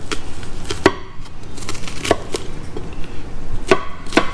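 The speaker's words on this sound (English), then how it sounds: "Okay, so now I'm gonna be chopping my shallot" A knife finely chopping a shallot on a cutting board, sharp irregular taps spaced about half a second apart, close and clear against a quiet kitchen background.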